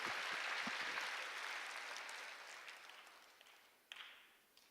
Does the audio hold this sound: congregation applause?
yes